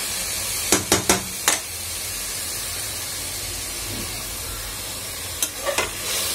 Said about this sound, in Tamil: இந்த எண்ணெயிலையும் நல்லா வதங்கட்டும்.